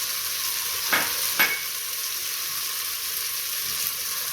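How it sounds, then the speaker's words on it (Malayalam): Spice powders, turmeric and chili powder, sizzle in a pan for mushroom biryani with a steady frying hiss. Two quick stirring scrapes stand out early on. "നല്ലപോലെ ഇളക്കി കൊടുക്കാം കരിയാതെ"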